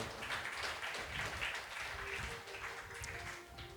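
A church congregation at Sunday Mass applauds its youth choir with a faint, continuous patter of many hands clapping at a distance.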